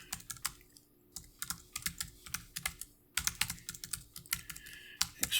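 Fast, steady typing on a computer keyboard while writing code, with irregular bursts of close, crisp key clacks and a brief pause in the middle.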